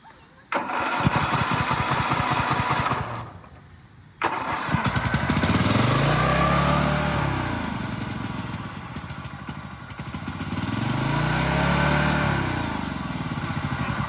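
A Toro zero-turn mower engine roars at full throttle, loud and close, with a short cutout near the start before it picks up again and runs steadily with rising and falling swells.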